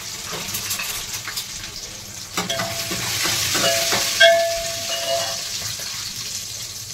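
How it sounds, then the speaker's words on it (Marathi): Green chillies frying in hot oil, a steady loud sizzle with stirring scrapes and a brief splashy burst partway through, no voices. "आता लागोपाठ आपण मिरच्या टाकून घेऊया. मिरच्या थोड्या तेलात झाल्या की मग आपण टोमॅटो टाकून द्यायचे."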